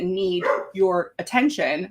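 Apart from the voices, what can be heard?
dog barking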